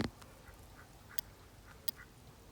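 Faint, distant duck quacks, a few short calls scattered across a quiet outdoor background, with a couple of sharp clicks.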